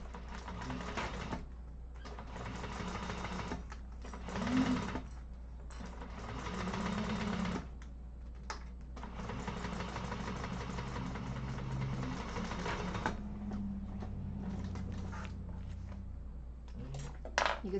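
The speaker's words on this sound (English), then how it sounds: "I'm just going to go ahead and top stitch right along that top edge" A sewing machine topstitching along the top edge of a fabric hobo bag, running in steady whirring bursts with short pauses between stitching runs, close and moderately loud with no talk.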